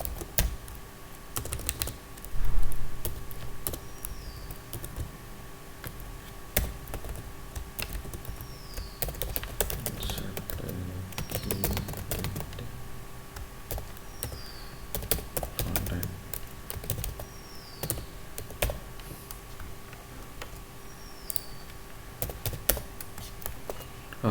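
Java code typed on a computer keyboard, close key clicks in irregular bursts and pauses across about twenty seconds, with a few heavier taps and a faint steady hum behind them.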